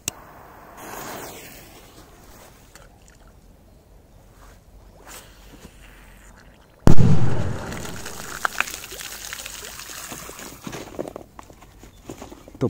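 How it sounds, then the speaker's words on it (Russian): A powerful firecracker bursts near a lake, bog or river with a sudden loud boom partway through, then a rumbling, crackling tail that lingers under scattered small noises after a quiet, faintly rustling lead-in. "Топ, мощная петарда."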